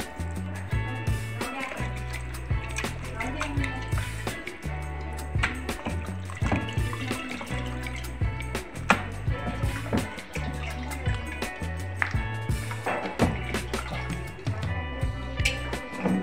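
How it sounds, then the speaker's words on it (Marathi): Raw mutton, about a kilogram, is rinsed by hand in water, with repeated splashing, sloshing and clattering in a bowl in uneven bursts, close and fairly loud. "इथे मी 2-3 पाण्याने स्वच्छ धुवून घेणार आहे"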